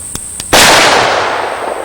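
A single loud gunshot from a Smith & Wesson .41 revolver with a full charge cracks sharply after two faint clicks, then rings out in a long decaying outdoor echo.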